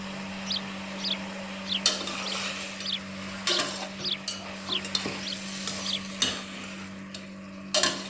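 Mutton with garlic, ginger and three green chilies being stirred in a pan for Mangalore mutton sukka, a steady sizzle broken by repeated scraping stirs and occasional sharp utensil knocks, with no talking.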